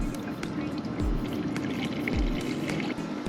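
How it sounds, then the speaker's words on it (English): Water is poured into the radiator of a 1995 BMW E36 to check for leaks, a steady splashing trickle with a couple of low thumps and a voice speaking over it. "So I'm gonna put water on this and see"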